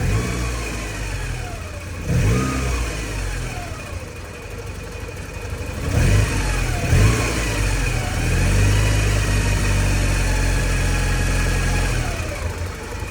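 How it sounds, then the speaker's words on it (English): A Porsche 944 project car's engine running close by, idling roughly with several revs that rise and fall, loud and steady throughout with no one talking. "Let's see if the engine do anything."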